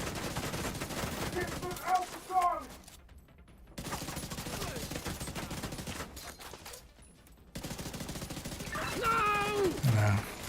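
Sustained weapon fire aimed at heavy enemies in a sci-fi shooter, dense rattling bursts broken by brief pauses, with game effects and a voice in the mix.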